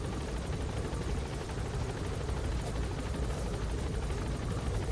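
A helicopter in the video game Metal Gear Solid V gives off a steady, loud rotor thrum with dense low rumble and rapid chopping beneath a broad hiss, constant and close for the whole stretch.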